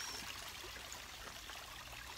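A waterfall in Miyakojima, Okinawa, Japan gives a steady, even rush of falling water, soft and somewhat distant, with no voices.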